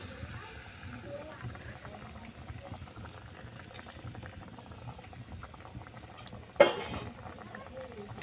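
Fish curry gravy with pumpkin bori and stingray pieces bubbles steadily in a pot, a soft continuous simmer with one brief utensil clank near the end.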